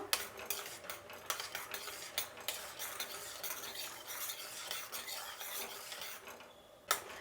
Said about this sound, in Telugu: పల్లీలు అనేది మంచిగా వేగాలండి.